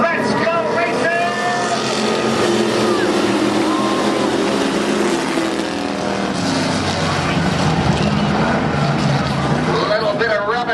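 IMCA stock cars and trucks roaring off the start of a dirt-track race, a dense, loud pack of engines revving and accelerating together throughout while an announcer talks over the din.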